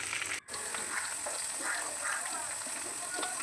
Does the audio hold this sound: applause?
no